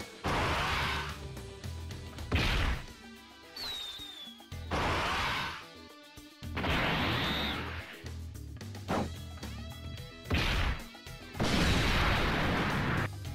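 Kid Gohan's LR 12-key super attack in a Dragon Ball mobile game, a dense sequence of booming energy blasts, crashes and whooshing bursts, loud and layered with swelling noise surges and impacts over about thirteen seconds.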